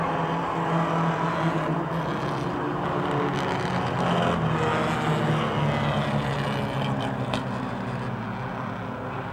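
Dirt-track race cars roar through the final lap to the checkered flag at Motordrome Speedway, a loud, continuous engine drone that swells and fades slightly as the cars pass.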